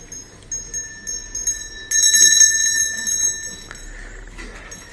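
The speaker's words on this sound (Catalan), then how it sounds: "Campaneta, sempre tocant la campaneta." A small bell rings again and again at close range, its bright, sustained tones overlapping into a shimmering, insistent jangle that peaks in the middle and then fades, with faint background noise.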